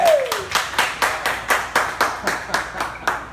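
Around a dozen evenly spaced, sharp claps ring out at an open mic night, a small crowd clapping in a steady rhythm, fairly close and moderately loud with no talk over them.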